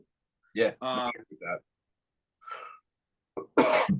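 A person speaks briefly, then after a pause comes one sharp, forceful sneeze, close and loud.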